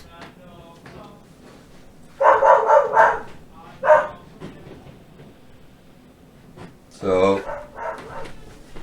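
Indoor dog barking in bursts, a few loud close barks in two clusters, with someone talking briefly between them.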